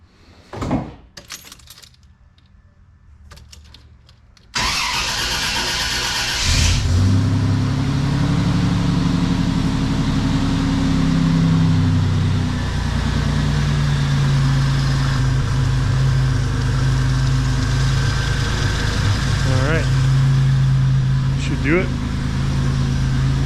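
A few faint clicks and knocks, then a Buick Grand National engine cranks and catches after an oil change, revving briefly before settling into a steady, low idle.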